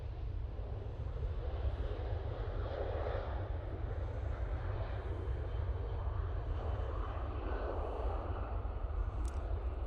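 A TUI passenger jet taking off from Manchester Airport makes a steady, broad engine roar with deep low rumble, holding constant throughout at moderate distance with no talk.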